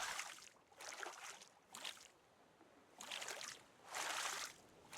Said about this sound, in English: He paddled the whole fucking way.